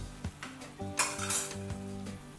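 A utensil stirs a cornstarch-and-water slurry into a creamy chicken, mushroom and spinach sauce in a pan, giving a few short scrapes and clinks against the metal over a faint background tone.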